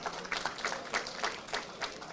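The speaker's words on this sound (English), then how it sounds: "Srinidhi Kulkarni, Srivatsa Hudar, Can we have a round of applause, please?" Audience clapping at an engineering college graduation day ceremony, a steady wash of many hands applauding together at moderate volume, with no voices over it.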